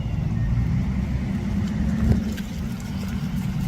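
A parked car left running beside a roadside police encounter, its engine holding a steady low idle rumble close by throughout, with faint background noise and no speech.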